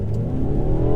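A 2017 Mercedes C200 coupe's engine revs up under hard acceleration, a loud, steady drone climbing in pitch as heard from inside the car.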